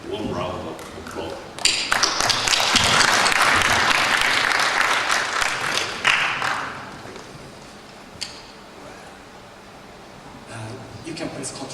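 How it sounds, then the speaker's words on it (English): Audience applause at an academic trade conference, a loud burst of clapping swelling quickly, sustaining for several seconds, then fading out into room noise and a voice. "Please welcome him with a warm round of applause."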